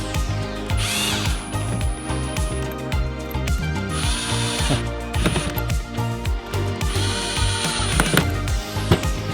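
Power tools whir and ratchet in bursts while an Evo X steering wheel assembly is bolted onto an Evo 8/9 column, with loud close drilling and clicking pauses between runs.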